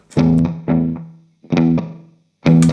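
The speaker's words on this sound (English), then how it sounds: "So what I'm going to do is just play about with the echo," An electric guitar played through a Donner Yellow Fall delay pedal plucks four separate notes or chords. Each one rings loud and near, then trails off in short echo tails before the next.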